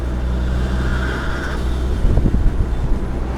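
A Zenos E10 R sports car's engine drones loudly and steadily from close by, with a rougher, pulsing surge toward the end as it works harder.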